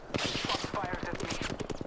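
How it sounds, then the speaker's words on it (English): Rapid bursts of automatic weapon fire in an Apex Legends ranked match, a steady stream of sharp repeated shots at close to mid range with no talk over them. "Shots fired at me"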